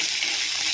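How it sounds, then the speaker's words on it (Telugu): Small pieces of ginger fry in oil for rice rava upma, giving a steady, close hiss of sizzling that runs without a break and with no voices over it. "ఇందులోకి అల్లం చిన్న చిన్న ముక్కలుగా చేసుకున్నాం కదా, అది యాడ్ చేసుకుని ఫ్రై చేసుకుందాము"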